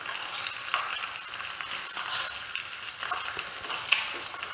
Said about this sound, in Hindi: अब इसके अंदर चिली डाल देंगे, ड्राई चिली, और थोड़ा सा हिलाएंगे।